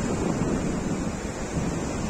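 Sea waves roll onto the Saudi coast at Khafji, a continuous, loud, broad wash of surf with wind buffeting the microphone and no distinct breaks.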